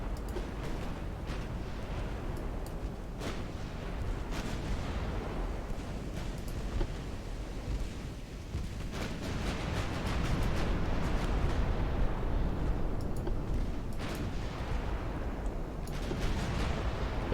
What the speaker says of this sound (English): my ships can just fire at will